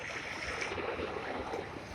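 Steady sea waves and surf at San Fabian beach, a continuous broadband wash with wind buffeting the microphone, fairly close and even in level throughout, with no voices.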